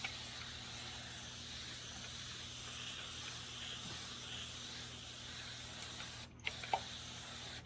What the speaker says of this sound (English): And I'm going to turn it to a spray.